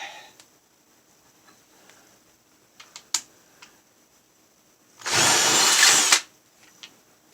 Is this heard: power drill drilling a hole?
yes